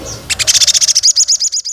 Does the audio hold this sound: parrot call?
yes